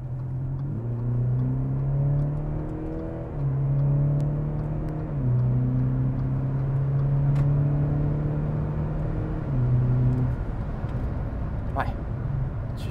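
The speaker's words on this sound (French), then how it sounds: "si tu me montrais par exemple une petite reprise" Audi SQ5 TDI biturbo diesel in dynamic exhaust mode accelerating, a steady rising engine drone with gear-change steps, close and continuous, with people talking over it.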